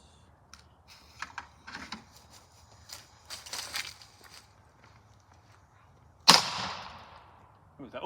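Small firework bursting inside a Washmatic toy washing machine, one sharp loud pop after several light clicks and handling taps, with a brief rattle following.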